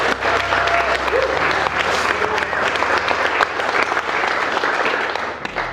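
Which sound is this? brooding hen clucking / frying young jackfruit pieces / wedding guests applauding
wedding guests applauding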